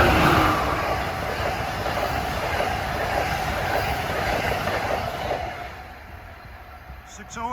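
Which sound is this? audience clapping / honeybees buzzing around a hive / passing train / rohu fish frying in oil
passing train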